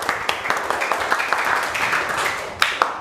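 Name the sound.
classroom applause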